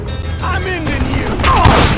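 Gunfire from the western shooter game Call of Juarez Gunslinger comes as a loud, close burst of shots layered under a voice.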